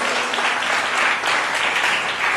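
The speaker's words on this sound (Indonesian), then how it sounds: "Berikan tepuk tangan bagi Yesus." A seminar audience applauds, a dense, sustained wash of many hands clapping at a steady level, fairly close and filling the whole short moment with no talk.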